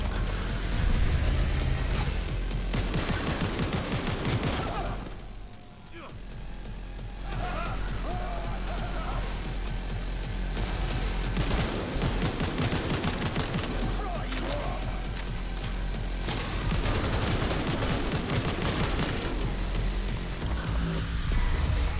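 Automatic rifle fire from Cyberpunk 2077 gameplay, dense and sustained bursts running loud through most of the stretch with a brief lull near the middle, mixed with game effects and music.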